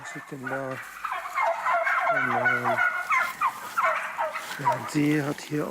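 Turkeys in a barn gobbling repeatedly, loud, close rattling calls overlapping one another in a busy flock, with no talking.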